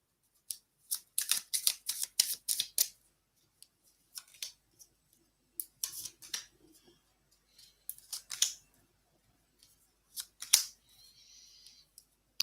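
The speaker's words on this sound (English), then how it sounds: "Let's pull you some cards at random here." Tarot cards are shuffled and pulled at a reading, giving bursts of crisp papery riffling and flicks, then scattered softer card slaps and slides with quiet gaps between.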